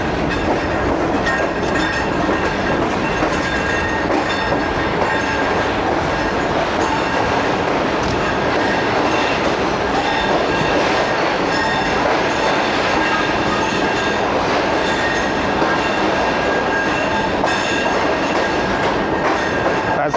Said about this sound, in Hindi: फैसलाबाद रेलवे स्टेशन का जो मेन प्लेटफॉर्म है 1 नंबर, वहाँ रोका जा रहा है कराकरम को